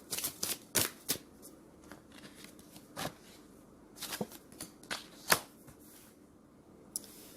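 Tarot-style cards are shuffled and drawn in a quiet room, giving soft, close riffles and a string of crisp flicks and snaps at irregular moments. Everything stays faint, with no talking.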